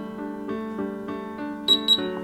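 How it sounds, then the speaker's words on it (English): Over a steady electronic hum, two quick, sharp, high-pitched beeps from an electronic lock keypad sound in close succession near the end. "until a double beep sounds and the LED stays on."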